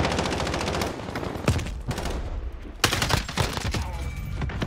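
Rapid automatic gunfire from the video game Call of Duty: Modern Warfare, with dense bursts and sharp individual shots crackling continuously at close range, no talking over it.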